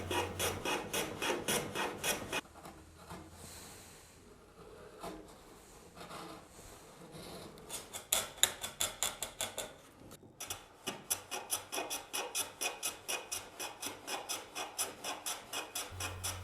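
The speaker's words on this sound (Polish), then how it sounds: "zanim klej wyschnie, możemy oczyścić sklejoną ramkę" Hand tools scraping and rasping over a freshly glued wooden frame for a simple hanging cabinet built with hand tools only, in steady rhythmic strokes that pause in the middle and then resume briskly, loud and close.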